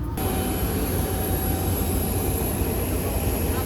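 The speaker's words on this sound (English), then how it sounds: "we're flying with Miat on a very small plane" Steady, loud engine drone inside the cabin of a small passenger plane in flight over Mongolia, a constant broadband roar with a thin high whine running throughout.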